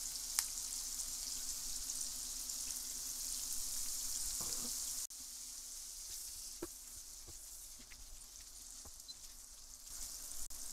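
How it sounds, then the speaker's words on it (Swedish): Steady, soft hissing sizzle of salted, white-peppered meat browning in a pot for a stew, with occasional small pops and a brief stir partway through. "låter vi bara köttet gå en liten stund så den får lite yta, lite färg"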